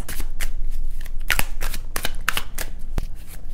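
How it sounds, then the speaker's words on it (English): Osho tarot cards being shuffled by hand, a rapid riffling patter with a few sharper card snaps, close and steady throughout with no talk. "Let's take a few cards from the Osho tarot cards."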